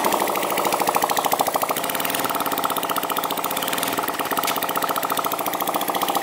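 A worn tandem scooter's small engine runs after starting, a rapid steady buzzing putter held close and loud throughout.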